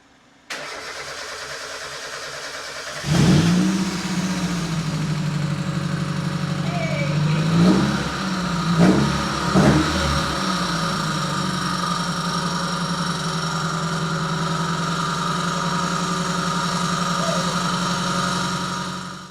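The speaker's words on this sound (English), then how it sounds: "the engine started up and it ran really well" A 1994 Mazda MX-5 (NA) engine cranks briefly and catches, blips a few times as the throttle is tapped, then settles into a steady, even idle that runs close and clear with no talking.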